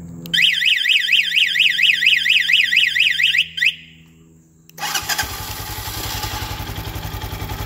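The alarm on a 2019 Bashan Brozz 250 dual-sport motorcycle arms with a loud, fast rising-and-falling siren warble lasting about three seconds and a brief chirp. A short pause follows, then the engine rumbles into a steady idle.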